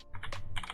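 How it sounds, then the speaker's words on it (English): A quick burst of keystrokes on a computer keyboard, several crisp, close clicks in rapid succession, heard alone. "let's type our directory and URL"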